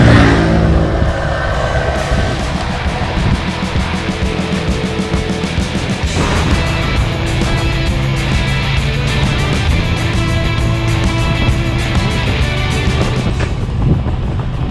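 A Yamaha Virago 250 cruiser motorcycle rides along a road, its engine droning steadily and loud throughout with heavy wind rush over the microphone and a brief shift in engine note partway through.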